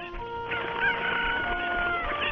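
A chicken in the video game Ocarina of Time clucks and squawks repeatedly in short, close, fairly loud calls, with no talking over it.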